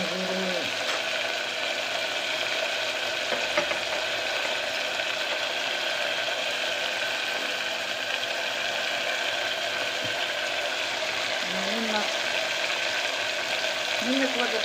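Tempering for a Gujarati cluster bean (guvar) curry sizzles steadily in hot oil, a dense, even hiss that runs from start to finish, with occasional faint voices in the background.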